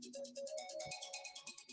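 A mobile phone ringtone plays a quick repeating electronic melody of bright pulsing tones, faint and distant in the room, with no talking over it.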